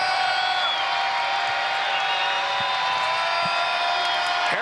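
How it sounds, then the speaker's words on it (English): A women's college basketball crowd inside John Paul Jones Arena roars in a dense, sustained wash of cheering and whoops, loud throughout. "And you hear the crowd come alive inside JPJ."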